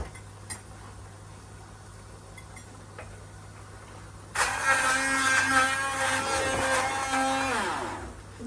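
A kitchen blender switches on partway through and grinds spices with mustard paste, a loud whirring motor with rattling contents following a quiet stretch with faint clicks.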